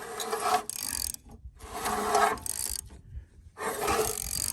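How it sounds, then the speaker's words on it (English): A wrench turns the crankshaft of an abandoned generator in three close, loud bursts of rapid ratcheting clicks, each separated by a short pause as the handle is reset. "put a wrench down there on the crankshaft. We'll see if we can't get it to turn that way."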